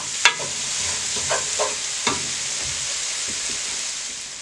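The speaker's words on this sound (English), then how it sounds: "going to put the pasted garlic in, and we're going to stir" Diced onions and pasted garlic get stirred in a frying pan, giving a steady close sizzle broken by a few soft scraping knocks from the utensil, with no talking.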